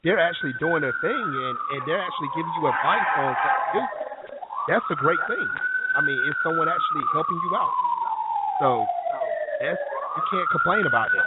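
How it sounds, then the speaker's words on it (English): A wailing police or ambulance siren sweeps up and down continuously in the background while someone talks over it on a call. "I heard the ambulance in the background, or the police cars."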